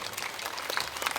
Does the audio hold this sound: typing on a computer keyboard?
no